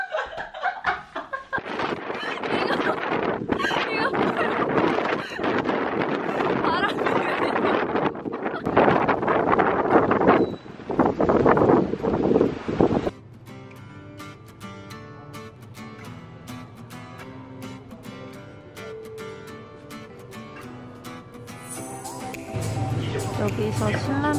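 Wind gusts roughly across an outdoor microphone in Okinawa, Japan, loud and close for the first half before dropping away, with people talking and music underneath.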